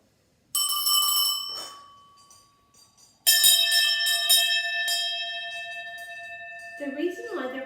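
A bell from Switzerland, the kind worn by animals in high pastures, is struck twice, each strike ringing out with a bright, sustained metallic tone that slowly decays, followed by a voice speaking near the end.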